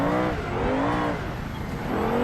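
A BMW 5 Series drifts through a corner in BeamNG, its engine revving in rising and falling sweeps with continuous tire noise, loud and close.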